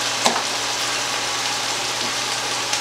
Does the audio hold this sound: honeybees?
no